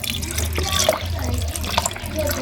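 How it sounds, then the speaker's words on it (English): A little water splashes and pours into a cooking pot of tripe close by, a steady trickling flow with faint clinks and a voice murmuring underneath. "I'm going to go in with just a little bit of water."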